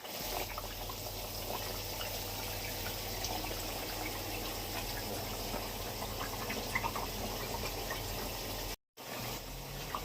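A pan of aar fish and eggplant curry boils with a steady bubbling, watery churn at moderate volume, broken only by a brief cutout near the end.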